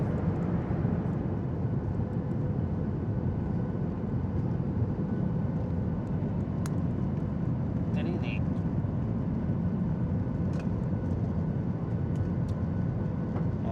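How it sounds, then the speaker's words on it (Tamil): Inside a climbing airplane just after takeoff, a steady loud engine and cabin roar fills the whole stretch with little variation, with a few faint clicks and brief sounds over it. "வானத்தை நோக்கி பறந்து கொண்டிருக்குது விமானம்"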